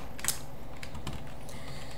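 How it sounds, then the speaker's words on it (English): Fingers type on a computer keyboard during a Minecraft session, a quick irregular run of light clicks and clacks, close and fairly quiet, with no talking. "my keyboard makes a lot of noises"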